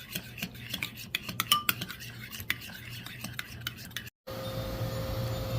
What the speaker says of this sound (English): And we're going to stir that all in together.